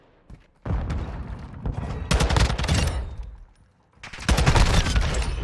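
Rapid bursts of automatic gunfire in a ranked multiplayer shooter video game, loud and close, sustained volleys separated by brief pauses, with a few single shots between them.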